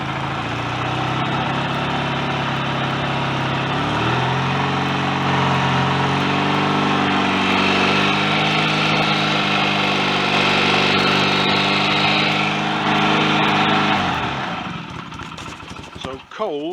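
A cold BSA A65 motorcycle engine runs steadily at about 3000 RPM, a loud, even mechanical drone with a slight pitch shift partway through, held alone before easing down at the end.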